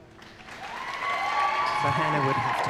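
Spectators at a dressage event clap and cheer from a distance and grow louder, with a commentator talking over the crowd and a whistle-like tone above the clapping.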